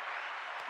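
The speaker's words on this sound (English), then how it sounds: "Oh, is that applause?" A short burst of steady applause from a small group after a Zumba class, even clapping sustained through the moment.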